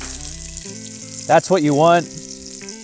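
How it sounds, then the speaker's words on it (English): Steady frying sizzle of onions in olive oil, a broadband hiss running throughout, with a person briefly speaking over it midway. "You'll hear that sizzle."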